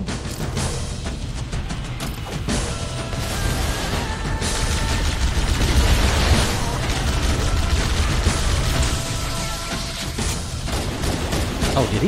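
Dense Halo combat at Silent Cartographer, with constant gunfire, booms and mechanical clatter that could include a Grunt's sticky grenade going off, loud and continuous, with a voice faintly under the din.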